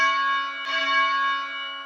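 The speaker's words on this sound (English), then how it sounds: "the bell just rings." A church bell struck from a keypress in a bell-ringing simulator rings out as a single bright, sustained tone that decays slowly, loud and alone.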